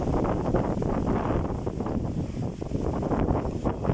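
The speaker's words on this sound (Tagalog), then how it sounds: "pabugso-bugso po yung hangin" Strong wind roars steadily into the microphone, buffeting it in uneven, rushing gusts with no voices.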